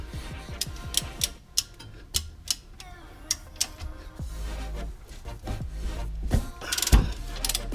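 A big wrench and ratchet working a large brake bolt on a 2006 Toyota Highlander Hybrid front brake job, a close series of sharp, evenly spaced ratchet clicks, then heavier clunks and metallic knocks.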